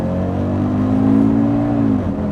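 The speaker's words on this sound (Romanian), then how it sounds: "accelerație gaz maxim și poți să dai" A car engine held at full throttle, a loud steady droning roar with rising pitch that holds, then drops off near the end, with no talk over it.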